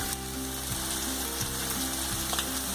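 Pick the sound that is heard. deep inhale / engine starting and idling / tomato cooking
tomato cooking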